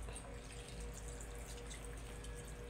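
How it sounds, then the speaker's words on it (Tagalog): Water pours steadily into a pot of meat being cooked to soften it, a continuous close splashing wash with a low rumbling undertone and no talk. "lagyan na natin ng kunting tubig para siya ay lumambot"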